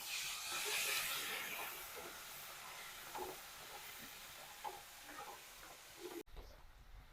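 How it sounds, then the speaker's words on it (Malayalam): Salt water poured into hot oil where jackfruit chips are frying sets off a loud, steady hissing sizzle that slowly eases over several seconds before cutting off abruptly. "ഉപ്പിന് വേണ്ടിയിട്ട് നമ്മൾ ഉപ്പ് കലക്കിയ വെള്ളമാണ് ഒഴിച്ചു കൊടുക്കണേ"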